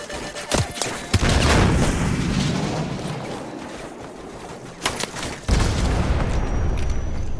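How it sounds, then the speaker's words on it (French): In a Call of Duty Modern Warfare campaign battle, a Stinger missile fires and detonates: sharp booming blasts and crackling gunfire, a long rumbling roar, then another heavy boom near the end. "Soap, tire un autre Stinger."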